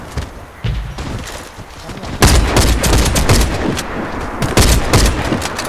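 Gunfire in the video game Warface during a clan war bomb match, loud close bursts of automatic shots that grow into sustained rapid fire after a quieter opening with scattered thuds.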